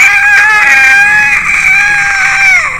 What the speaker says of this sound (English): Yeah, see, I can scream too.